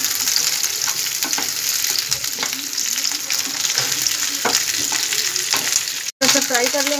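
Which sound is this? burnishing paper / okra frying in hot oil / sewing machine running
okra frying in hot oil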